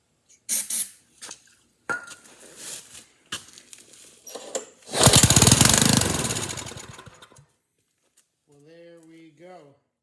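A John Deere 524 rototiller, its carburetor freshly cleaned, is pulled over with a few short scrapes and knocks before the small engine catches for a rough two-second burst and dies away. Someone speaks briefly at the end.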